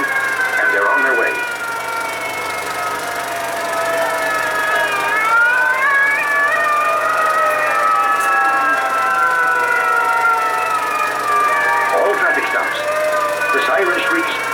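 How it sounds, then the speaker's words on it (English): A 1960s fire engine siren wails steadily, rising and falling in pitch, loud and sustained for the whole stretch, with faint engine and street noise underneath. "The siren shrieks, clear the way,"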